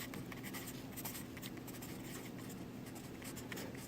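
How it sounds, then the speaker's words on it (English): A pen scratches across paper while labelling the axes of a graph: continuous soft, close scraping strokes with a steady rhythm and no talk over them. "so I'm going to write that here"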